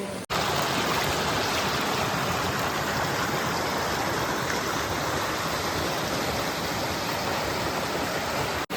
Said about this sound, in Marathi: माझ्या पाठी बघू शकतास एकदम पाणी पण मस्त आणि सगळ्या दगडी